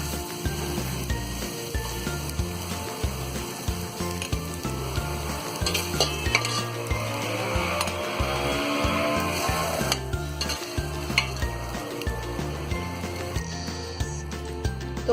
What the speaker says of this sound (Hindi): तो हमने इसे 4 से 5 मिनट फ्राई कर लिया है।